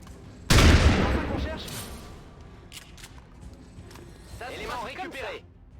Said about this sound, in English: Seb, move forward and shotgun this nerd to the face